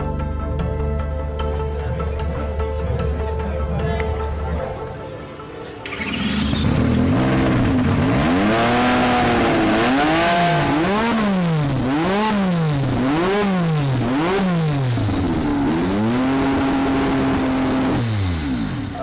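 A Honda-powered Williams FW11 Formula One car's engine is revved up and down in repeated loud, wailing sweeps after a brief quieter stretch at the start, the rising and falling pitch cycling steadily and close by.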